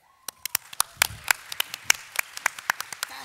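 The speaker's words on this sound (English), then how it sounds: "a big round of applause for Kelly Sue DeConnick" Scattered, uneven handclaps from a small audience greeting guest Kelly Sue DeConnick, sharp individual claps close by rather than a dense ovation.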